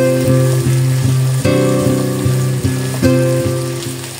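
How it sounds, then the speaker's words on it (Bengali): Ginger garlic paste fries loudly in a pan, sizzling up close with rhythmic scraping stirs repeating every half second or so; no speech. "এখন আদা রসুন বাটাটা 2-1 মিনিটের মতন ভেজে নেব।"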